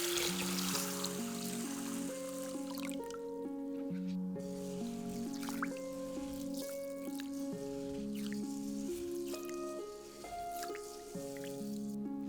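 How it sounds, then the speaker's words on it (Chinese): Red beans being rinsed in water by hand, with soft drips, trickles and squishy stirring sounds heard close but partly beneath steady background music. "用水洗干净。"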